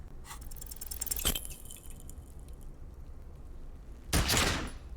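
Pistol gunshot in the video game Disco Elysium, a sharp blast followed a few seconds later by a louder burst with a decaying crackle, set against faint game ambience and no talking.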